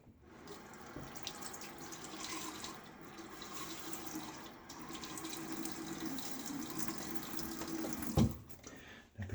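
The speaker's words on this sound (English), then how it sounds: "I'm gonna get my face wet." Tap water runs steadily into a sink as a face is wetted before shaving, a continuous close splashing hiss with a sharp clunk near the end.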